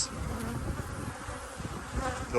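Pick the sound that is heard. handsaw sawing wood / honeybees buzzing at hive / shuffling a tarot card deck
honeybees buzzing at hive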